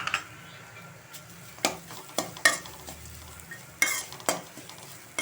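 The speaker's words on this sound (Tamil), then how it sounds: "லைட்டாக ஒரு ஓட்டு மட்டும் ஓட்டி இறக்கிடலாம்" Grated coconut being stirred and dry-roasted in a pan for a chickpea kuzhambu, with soft scraping and clinks of a spoon against the pan and a faint low sizzle, in short sporadic strokes.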